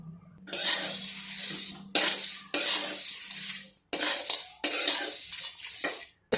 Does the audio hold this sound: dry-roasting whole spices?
yes